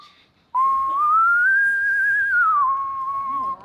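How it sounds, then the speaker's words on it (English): A man whistles a sustained melodic tune close up, the clear tone rising, holding and gently falling over a few seconds. "you can whistle in public and people don't really look at you that weird"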